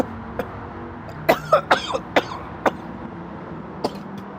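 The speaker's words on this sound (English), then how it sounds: "sorry for coughing." A person coughs several times in a quick series, sharp and close, followed by one more isolated cough after a pause.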